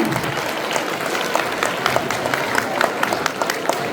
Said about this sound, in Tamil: இந்த குழந்தைங்களுக்கு மறுபடியும் ஒரு கைத்தட்டல் கொடுக்கலாம்.